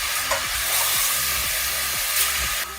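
Mushrooms and their juices are stirred into mirepoix in a hot pan, with a steady loud sizzle and hiss broken by repeated scraping strokes of the stirring utensil.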